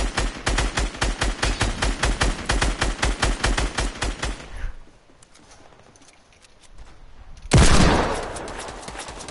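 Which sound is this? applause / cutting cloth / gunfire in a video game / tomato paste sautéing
gunfire in a video game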